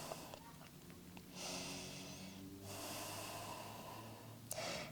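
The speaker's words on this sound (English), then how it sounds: "Take some few breaths to neutralize your breath." Slow, steady breaths during yoga held in downward dog pose, two long drawn exhales with airy rush close to the mic, steady low hum beneath, no talking.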